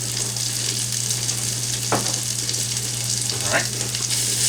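Pesto gnocchi with beef sizzles and pops steadily in a skillet, a constant close frying hiss with a couple of sharper pops; a voice speaks one brief word.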